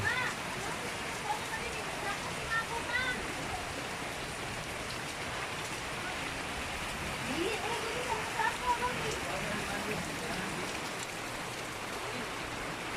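Heavy rain falls steadily in the Davao uplands, a dense hiss of drops hitting surfaces, with faint voices now and then underneath.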